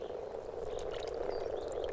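Moor frogs croak in a shallow spring spawning pond, a dense chorus of soft, bubbling calls overlapping steadily and close by.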